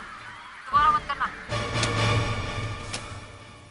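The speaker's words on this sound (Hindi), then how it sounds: "सीगल्स की आवाजें, जहाज की आवाजें और मछुआरों की आवाजें" At a seaside dockyard, a sharp cry like a gull breaks a quiet moment, then a denser wash of honking calls and harbor noise rises and carries on with a faint voice mixed in.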